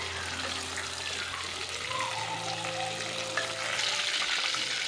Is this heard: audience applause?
no